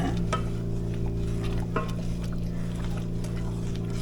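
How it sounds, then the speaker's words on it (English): Caramel for baked caramel corn is stirred in a pot, with soft scraping and occasional clinks over a steady low stovetop hum. "And I'm going to stir it while it does this."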